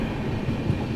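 Duronto Express passenger train, the New Delhi to Secunderabad service, running through the night near Ballarshah, heard as a steady, close rumble of wheels and carriage noise from onboard with no break.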